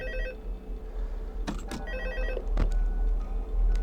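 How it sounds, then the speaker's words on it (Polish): An old-style telephone rings in the Five Nights at Freddy's 2 video game, repeated electronic ring bursts over a low droning hum, with a couple of sharp clicks in between. "O, telefon dzwoni."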